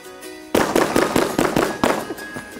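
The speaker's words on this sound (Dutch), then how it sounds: "We gaan er weer met de knaller uit, dus ik ga hem aansteken" New Year firecrackers go off in a rapid run of about eight sharp, loud bangs at an uneven rhythm after a quiet start, close by, with a faint whistling tone lingering near the end.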